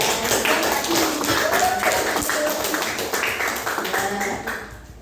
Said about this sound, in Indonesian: tepuk tangan untuk Nizam